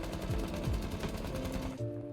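Thermite's rifle from the video game Rainbow Six Siege firing in a rapid, sporadic burst of shots that runs for nearly two seconds before stopping abruptly.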